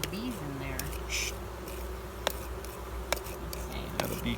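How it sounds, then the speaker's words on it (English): Honey bees buzz steadily around an open hive during an inspection, a continuous low drone close by with a few sharp clicks, under occasional soft talk. "I have a bee crawling on my leg."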